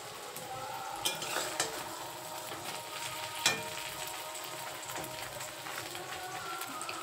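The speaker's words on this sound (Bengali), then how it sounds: "দেখো এর মধ্যে টমেটো পেঁয়াজ লঙ্কা সব রকম দিয়েছি, দিয়ে এই যে কড়াইতে তেল দিয়ে দিচ্ছি" Tomato, onion and chili frying in oil in a wok, giving a steady hiss of sizzling with a few sharper pops and spatters, close and fairly quiet, with no talking.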